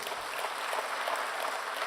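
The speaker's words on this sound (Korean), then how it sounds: "할렐루야, 박수로 영광 돌리겠습니다." Church congregation applauding together during a Sunday worship service, a steady, dense wash of many hands clapping throughout at moderate level, with no voices over it.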